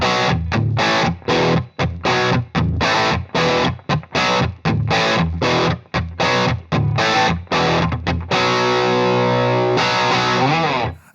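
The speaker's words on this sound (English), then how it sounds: "Just a Les Paul into a Marshall" Les Paul guitar through a Marshall amp plays a riff with a crunchy, driven tone: choppy rhythmic chord stabs loud and close, ending in a held, sustained chord.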